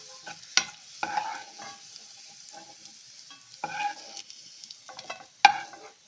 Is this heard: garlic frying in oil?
yes